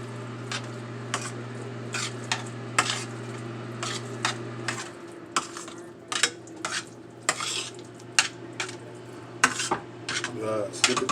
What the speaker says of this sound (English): So now we're going to mix this in.